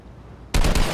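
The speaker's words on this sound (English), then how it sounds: "Okay, I'm going to shoot this guy." Sudden burst of rapid gunfire in the video game Fortnite, a loud close volley of several quick shots after a quiet moment.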